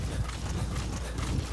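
Horse hooves clip-clopping in Metal Gear Solid V: The Phantom Pain, a steady, rapid run of hoof beats over a dense rumbling game soundscape, fairly close.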